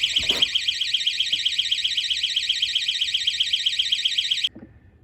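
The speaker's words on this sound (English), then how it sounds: "I'm gonna try to open it to set off the alarm to show everyone how it works." A wedge door security alarm, set off by opening the door, pulses a loud, shrill electronic tone steadily for about four and a half seconds, then cuts off abruptly, followed by faint clicks.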